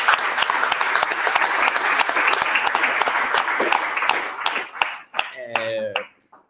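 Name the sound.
audience applause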